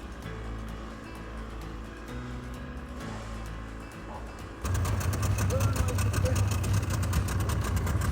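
A barge engine idles with a low, steady drone, then grows louder and rougher partway through as it runs on, close and continuous with no one talking.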